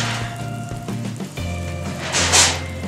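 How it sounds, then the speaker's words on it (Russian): Crinkling, rustling aluminium foil is removed from a baking tray of oven-baked pumpkin, with soft sizzling and a brief hiss, fairly quiet and close, with light clatter against the tray. "фольгу сейчас я снимаю аккуратно"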